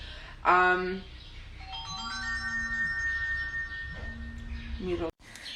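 A phone ringtone chimes in repeated melodic bursts, fairly close and clear, taking a work call indoors, with a voice briefly under it.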